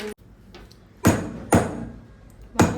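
A whole nutmeg is struck to crack it open, giving three sharp hard knocks about half a second apart after a faint first tap, each a short percussive thud with a quick decay in a quiet room.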